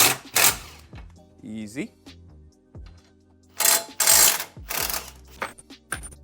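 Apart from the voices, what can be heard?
impact wrench removing strut bar bolts on GR Supra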